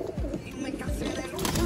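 Several pigeons coo in low, repeated rolling calls nearby, the brief burbling notes overlapping in a busy loft.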